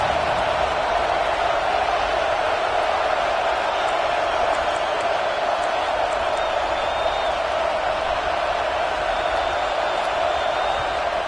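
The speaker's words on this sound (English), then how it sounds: "Listen to this crowd just shaking the girders of this place" A packed football stadium crowd roars steadily for the home defense in a Texas versus Georgia game, a dense, sustained wall of cheering with scattered whoops that fills the whole stretch.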